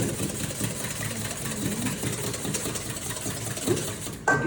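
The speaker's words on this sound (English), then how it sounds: "So what I do is, I whisk here." Electric whisk beating egg yolks for tiramisu, a steady mid-pitched motor whir running continuously at close range, with a brief clatter near the end.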